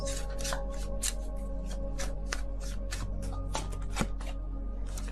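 Tarot cards are shuffled by hand and drawn from the deck, producing close, crisp riffles and flicks in quick irregular bursts over a steady low hum, with no talking.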